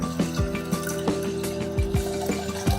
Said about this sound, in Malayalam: ഒന്നര കപ്പ് വെള്ളം ചേർത്ത് കൊടുക്കണം